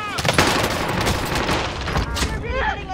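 Rapid bursts of gunfire fill a Warzone battle royale match, a MAC-10 fight, loud and dense throughout, with a voice talking over the shooting and game announcer-style callouts near the end.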